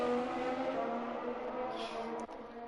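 An Alfa Romeo race car in a sim-racing qualifying session at Spa, its engine a steady, moderately loud droning whine with layered harmonics that holds through the descent, dipping briefly near the end.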